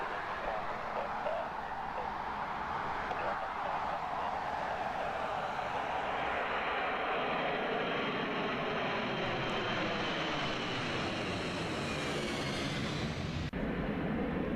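An AirBridge Cargo jumbo jet's engines roar at an airport, a loud steady broadband rumble with a slowly sweeping whine that shifts in pitch as the aircraft moves, and no voices.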